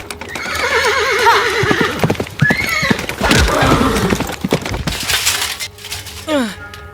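Horses at a jousting match between knights whinny loudly several times amid clattering hoofbeats and sharp cracking impacts, close and lively, with brief vocal sounds mixed in.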